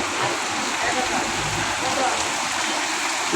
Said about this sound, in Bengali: স্বস্তির বৃষ্টি নামলো ঢাকা শহরে